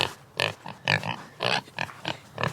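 Pigs on a farm grunt and snort in quick, uneven bursts, close and fairly loud, one call after another with no talk.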